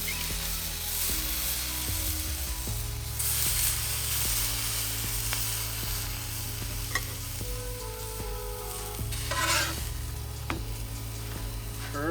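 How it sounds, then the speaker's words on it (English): Beer bratwurst sizzling on a Blackstone griddle fitted with GrillGrates makes a loud, continuous close sizzle, with occasional sharp pops and clinks of a tool on metal. "just want to get our brats on there and get those beautiful char marks on there"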